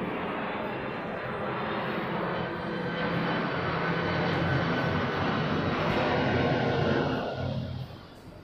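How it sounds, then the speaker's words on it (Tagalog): An airplane passes overhead outside Shin Osaka Station in Japan, a broad engine roar that swells and holds, then fades toward the end, with faint street ambience beneath. "Ah, may aeroplano."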